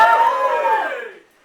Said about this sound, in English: Gives a cheer if you're from Scotland.